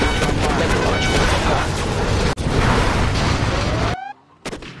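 Missile launch in C&C Generals Zero Hour, a loud, dense roaring blast that sustains for a few seconds and then cuts off abruptly, followed by brief quieter tones.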